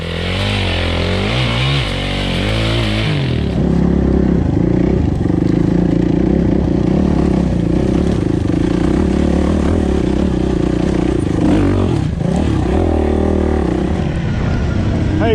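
A Yamaha WR450F dirt bike engine revs hard and close for about fifteen seconds. The pitch swings up and down, and a voice talks briefly over the engine noise.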